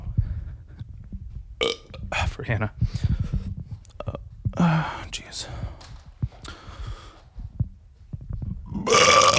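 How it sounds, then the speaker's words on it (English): Loud belches erupt repeatedly among close, casual talk and laughter, with a long drawn-out burp at the end. "You're going to be hearing a lot more burps from her."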